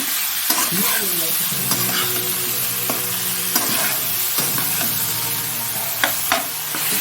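Cauliflower curry sizzles loudly in a pan while a utensil stirs and scrapes through it, giving steady frying hiss broken by repeated clinks and scrapes, close up with no talking.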